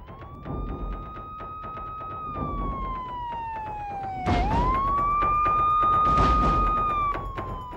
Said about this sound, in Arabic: أسرع رجال الإطفاء نحو الموقع وقاموا بسحب كول وبيني وكولمان خارج المنزل